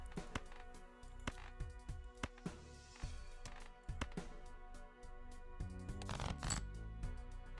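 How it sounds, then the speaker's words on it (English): Cards flicking and snapping in Balatro as jokers are shuffled, a series of sharp clicks and soft rustles spaced irregularly, ending with a quick busy flurry of card sounds. "Shuffle my jokers all you want."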